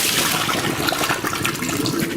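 Water from soaked chipotle peppers and sun-dried tomatoes is poured off through a strainer, a steady close splashing rush that runs unbroken for a couple of seconds with no talk over it.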